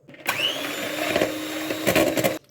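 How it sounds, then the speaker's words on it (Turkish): A coffee mixture is whipped until frothy, likely with an electric mixer, giving a loud continuous whirring drone that runs for about two seconds, rises at the end and then cuts off abruptly. "Köpük köpük olana kadar çırpıyorum"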